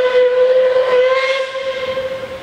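Oil-burning steam locomotive 14A on the Puffing Billy railway sounds its whistle, a loud, sustained single blast with a clear steady tone and rich overtones, fading slightly toward the end amid a soft hiss of steam.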